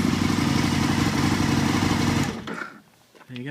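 A 2003 Aprilia RSV R1000 V-twin motorcycle engine runs loud and close with a steady lumpy idle, then cuts off abruptly and leaves quiet background rustle.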